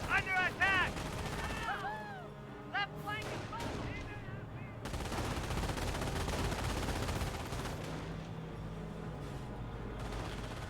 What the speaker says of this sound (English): These units are getting suppressed by the forward MG.